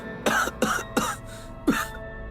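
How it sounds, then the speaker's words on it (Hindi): Several harsh, forced coughs in a Hindi audio horror story as someone tries to dislodge a fish bone stuck in the throat: four close, rough bursts in quick succession. "जोर से खांसो।"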